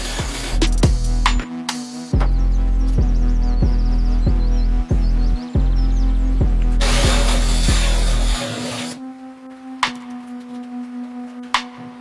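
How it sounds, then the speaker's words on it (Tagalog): A drill fitted with a 35mm boring bit cuts concealed-hinge holes in a wooden cabinet panel, a loud continuous motor whine with grinding bursts and knocks, then winding down to a lower hum with scattered clicks. "I am using a 35mm boring bit for the concealed hinges."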